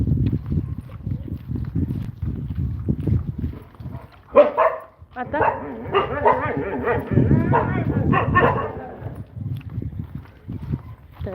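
A dog barks a few times amid people speaking nearby, with shuffling movement and steps in the background.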